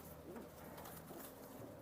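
High-flying pigeons kept for sale coo softly at a seller's loft, a low, murmuring burble under steady background noise.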